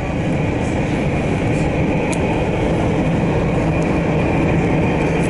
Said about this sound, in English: Sprinter light train over there.